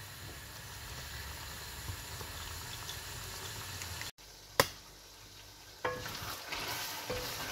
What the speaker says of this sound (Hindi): अब इसकी भुनाई बस करनी है, और साथ साथ इसको गलाना भी है, ऐसे ही भून के फ्लेम फुल करना है।